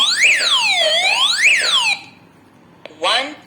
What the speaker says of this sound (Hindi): आप ए बटन प्रेस करने से अलार्म को एक्टिवेट कर सकते हैं